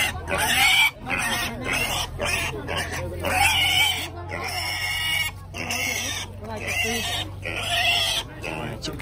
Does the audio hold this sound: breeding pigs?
yes